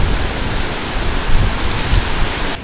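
Rain falls downtown in a steady, close hiss of broadband patter and drops, loud and unbroken throughout with no voices.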